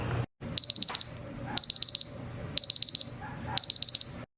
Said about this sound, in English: until my thermometer beeps so I know the roast is ready